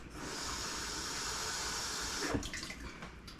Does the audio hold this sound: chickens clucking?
no